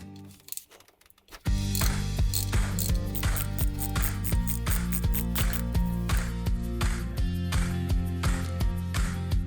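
Mechanical clicking and ratcheting while a timing chain tensioner is removed from a Land Rover Defender Td5 engine with a 6mm Allen key, a rapid regular series of close metallic clicks after a brief quiet start.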